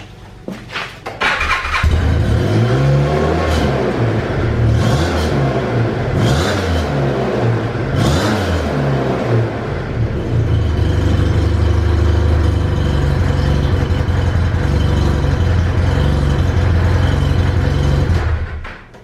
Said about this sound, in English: Let's fire it up and give the track a spin.